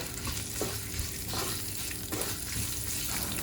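Mustard seeds sizzle and crackle in hot oil while tempering for khara pongal, a steady dense frying hiss with a few soft pops, close and continuous with no talking.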